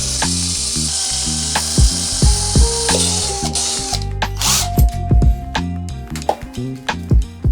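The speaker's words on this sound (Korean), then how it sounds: "이건 약간 더 고난이도인데, 두 개를 같이 뚫어줘야 되는데." A power drill bores through two stacked Lock&Lock plastic containers at once, giving stop-start whining bursts that shift in pitch, mixed with ratcheting clicks and knocks, close and loud.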